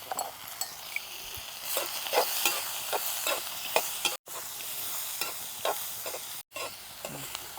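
Onion with turmeric powder fries in a pan for a cashew theeyal, soft sizzling under repeated scraping stirs, fairly quiet and close, with two brief dropouts.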